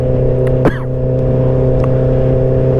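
A motorcycle engine used for drag racing drones loudly and steadily on the move, with one quick sweeping blip in pitch as the quick-shifter snaps through a gear change, then carries on at a constant roar.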